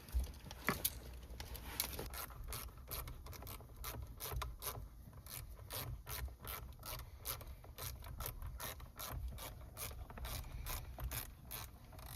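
Tight airbag bolts being loosened on a 2012 Subaru Impreza WRX STI steering wheel, heard as a steady run of quick, close ratchet clicks repeating for about twelve seconds over a low mechanical rumble.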